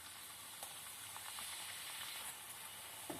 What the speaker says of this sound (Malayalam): ഡയമണ്ട് കട്ട് ചെയ്തിട്ട് നമ്മൾ ഫ്രൈ ചെയ്യണം